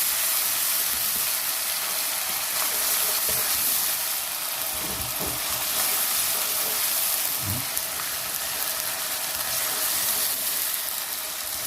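Garlic and ginger paste frying in a pan for chana masala gravy, a steady loud hiss and sizzle throughout with a few soft stirring scrapes, no talking.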